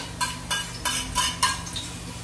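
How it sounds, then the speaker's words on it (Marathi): Sliced onion with ginger-garlic paste stirred in a hot pan for lentil biryani, giving a steady soft sizzle under a few scraping strokes of a spatula against the metal. "आता हा मी उभा चिरलेला कांदा याच्यात टाकून घेत आहे। आलं लसूण पेस्ट टाकत आहे"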